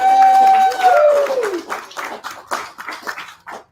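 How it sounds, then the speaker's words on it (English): Sparse clapping from a modest audience at a veterans wealth-strategies event begins after a voice fades out, scattered and moderately loud, thinning toward the end. "Chi-Chi a round of applause."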